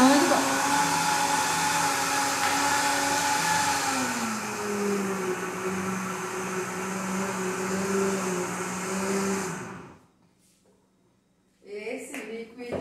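Kitchen blender whirring steadily while mixing a dessert, its motor pitch dropping slightly partway through, then cutting off abruptly near the end before some brief clatter.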